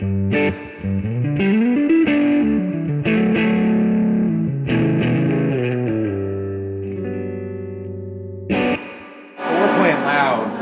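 Electric guitar through a Chula overdrive pedal at gig volume, playing chords and sustained notes with a warm, gritty tone, moderately loud, ending with a brighter noisy strum.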